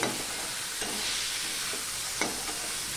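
Fried potatoes and okra stir-fried together in a pan give a steady, hissing sizzle with a couple of brief scraping stirs, close and moderately quiet, with no talking.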